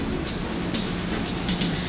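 Rumbling train cabin noise with a steady low roar, punctuated by periodic clicks and hisses as wheels pass over rail joints.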